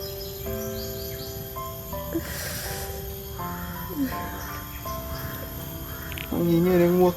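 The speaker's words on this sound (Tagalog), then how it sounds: "Ang ingay ng uwak mga tol." Several crows caw in short bursts against a background of insects and birdsong, with some faint voices mixed in.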